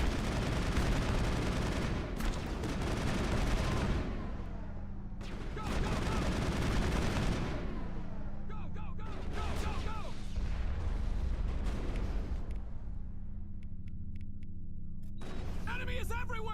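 Gunfire in the sci-fi shooter Mass Effect, heavy bursts of rapid shots and blasts in dense volleys separated by short lulls, loud and close, with someone talking over parts of the fighting.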